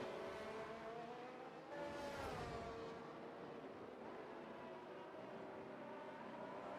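A pack of race cars drives through the Austria circuit in a sim racing game, engines droning steadily at a moderate distance, with one car's whine rising and sweeping past partway through.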